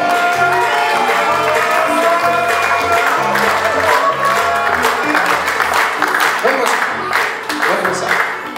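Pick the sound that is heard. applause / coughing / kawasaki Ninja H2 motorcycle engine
applause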